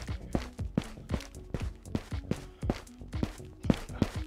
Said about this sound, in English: I swear I can hear footsteps